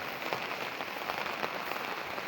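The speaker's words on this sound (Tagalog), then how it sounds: "It's raining." Steady rain falls during a wet July in Noveleta, Philippines, a dense, even hiss with soft patters of drops on surfaces that stays close and continuous throughout.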